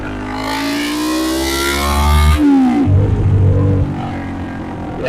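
A 450 dirt bike engine runs loud and close, its pitch climbing as the throttle opens, dropping back to a rough idle, then blipping again with short revs.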